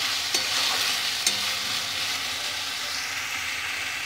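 Spices fry in hot oil in a home kitchen, a steady close sizzle with a few sharp clinks of a stirring utensil against the pan and the crackle easing slightly toward the end.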